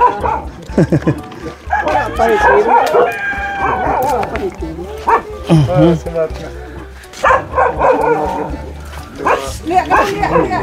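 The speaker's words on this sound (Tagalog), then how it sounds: "Ang daming aso." Several dogs bark, yip and whimper in a busy, close chorus, with people talking among them throughout.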